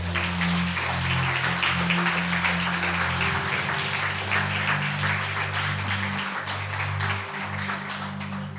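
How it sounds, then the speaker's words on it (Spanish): A church audience claps loudly in a sustained, dense round of applause, with sustained keyboard or organ chords droning beneath it throughout. "Denle un aplauso fuerte al Señor."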